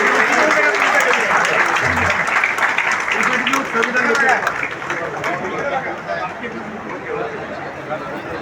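A crowd applauds at a BSP party executive review meeting and cadre camp, loud sustained clapping that slowly thins out, with some voices mixed in.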